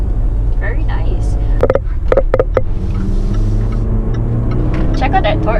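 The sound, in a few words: Range Rover Velar engine accelerating while driving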